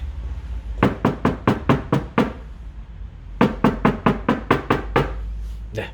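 Two rapid series of knocks on the stock, unsoundproofed rear door of a Genesis GV70, each around eight hits, sounding hollow and resonant up close, separated by a short gap.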